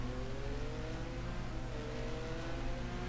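Race car engines in a sim racing game at Spa, several cars droning steadily together as they enter the pit lane, a continuous mid-pitched whir with no talk.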